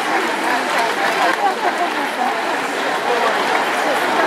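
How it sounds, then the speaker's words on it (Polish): An audience at a live stage show applauds in a dense, sustained wash of clapping mixed with crowd murmur, holding at an even level for several seconds. "raz jeszcze nagrodźmy ich oklaskami"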